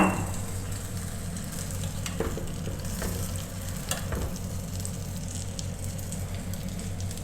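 Masala-coated fish pieces frying on a tawa in a village kitchen, a dense, steady sizzle of hot oil with occasional light taps and scrapes, close and continuous throughout without any talking.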